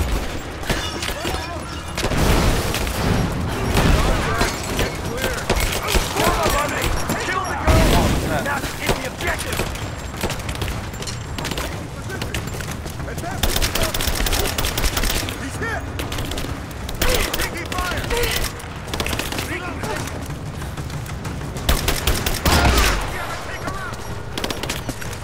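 Sustained gunfire in Rise of the Tomb Raider at the Observatory, with dense bursts, automatic fire and occasional heavy booms over about twenty-five seconds, loud and continuous with voices speaking intermittently underneath.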